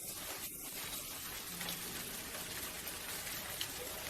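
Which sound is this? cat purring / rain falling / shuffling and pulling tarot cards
rain falling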